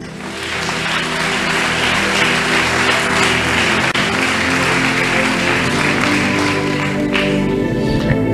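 A congregation at a French-language church service applauds the Lord, with dense, steady clapping sustained over a continuous tonal backdrop.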